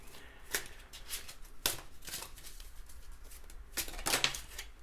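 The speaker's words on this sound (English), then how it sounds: "I shuffle better off camera." Tarot cards being shuffled by hand during a pick-a-card reading, with several bursts of crisp riffling and rustling close by, separated by brief quieter pauses.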